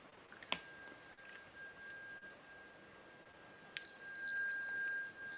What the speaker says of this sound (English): we have the bell song.